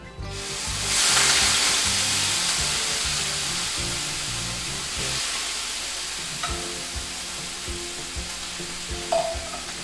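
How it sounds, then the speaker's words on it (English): Chicken stock hisses and sizzles in a hot pan of shrimp risotto as a spoon stirs through it, a steady close-up crackle with occasional scraping. "now you add the chicken stock in and just start stirring your risotto"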